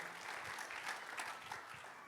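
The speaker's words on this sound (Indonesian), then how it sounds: "Ayo kita beri tepuk tangan yang meriah bagi Tuhan kita." A church congregation claps together during a Christmas service in Surabaya, a faint, distant, steady wash of hand claps filling the whole short stretch.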